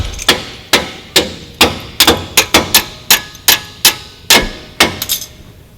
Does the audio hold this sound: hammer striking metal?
yes